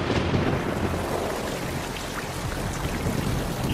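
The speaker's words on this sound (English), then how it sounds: "when condensation occurs on this planet, it rains methane" Steady heavy rain with a deep thunder rumble, portraying methane rain on Titan; a dense continuous wash at even loudness, with no voices.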